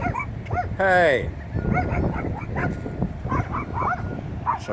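A dog barks and yips in a single loud burst near the start, then keeps barking intermittently under ongoing talk, with an oil tanker arriving slowly in the background.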